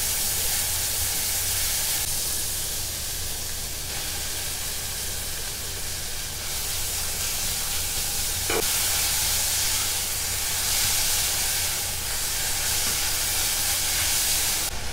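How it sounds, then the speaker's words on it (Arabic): Finely minced chicken breast sautés with finely chopped onion in a pan, making a continuous even hiss of frying that holds steady for the whole stretch, with one brief clink of a utensil midway. "نضيف شويه من الدجاج المفروم ناعم برضو صدور، واكشره مع البصل"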